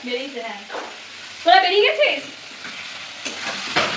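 Chicken sizzles and fries in a pan while being stirred, with bursts of scraping and crackle rising over steady frying; voices talk nearby and a dog can be heard faintly.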